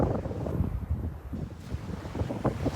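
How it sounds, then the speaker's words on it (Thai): Strong wind buffets the microphone by the sea, a steady low rumble with gusts rising and falling, and faint surf beneath it. "ลมก็จะแรงนิดนึงค่ะ"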